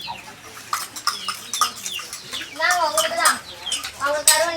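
Chickens cluck and chatter close by in a busy flurry of short calls, with voices talking over them.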